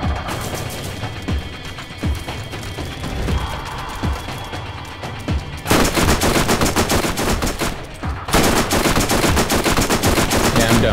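Rifle and automatic gunfire from the Borderlands video game, loud rapid bursts running through the whole stretch, growing denser in two sustained volleys toward the end.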